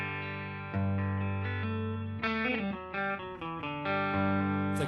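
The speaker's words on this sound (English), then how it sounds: "It's like a doubled guitar." Sustained electric guitar chords through a loop station's doubled-guitar effect (Boss RC-600/RC-300), with a thick, chorus-like texture, played alone and loud, with a few chord changes and some reverb.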